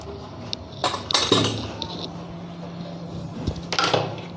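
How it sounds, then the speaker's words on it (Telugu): A metal kadai pan is set on a home kitchen stove while pots and utensils clink and clatter, with a few sharp metallic knocks and scrapes close by before a steady background hum. "ఇప్పుడు దీని మీద కళాయి పెట్టుకోవాలండి."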